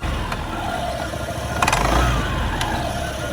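Honda PCX scooter engine revving up close, then the throttle is released, a steady mid-pitched drone with a few brief sharp clicks and a slight swell near the middle.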